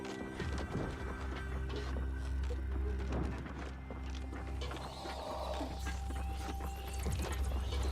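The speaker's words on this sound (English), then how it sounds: "Hey, another horse." Horse hooves clip-clop in the video game Wartales, with a neigh and scattered mechanical clanks and knocks over a steady low game ambience; no one speaks.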